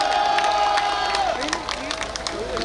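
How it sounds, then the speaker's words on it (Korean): A crowd at a Democratic Party election campaign rally in Korea cheers and claps, a broad wash of shouting and applause heard under amplified sound from the stage. "여러분, 힘찬 박수 부탁드립니다."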